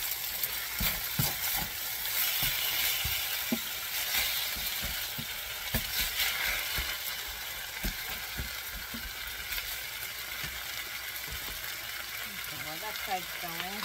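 Ham hash and hashbrown potatoes sizzle in a pan, with a steady frying hiss. Scraping thumps of a spatula pressing the mixture flat are heard throughout, and a voice talks softly beneath.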